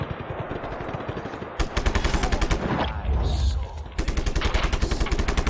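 Rapid automatic gunfire in the video game Just Cause 3, with dense bursts of rattling shots that start and stop, loud and close, with a few quieter gaps between volleys.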